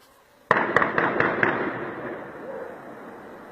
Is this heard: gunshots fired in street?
yes